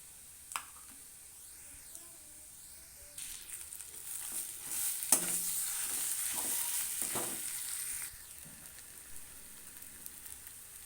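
Boiled potato stuffing for aloo paratha being stirred and fried in a pan with Kashmiri red chilli powder, soft intermittent sizzling and scraping strokes that build midway, fairly quiet and close, with no talking.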